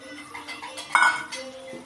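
Boiled cowpeas being stirred into tomato curry in a pan, with soft scraping and one brief clink, quiet and close.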